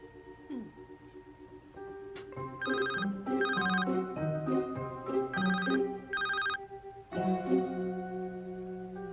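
An old-style telephone bell rings in several repeated bursts, clear and fairly close, with a steady tonal background underneath.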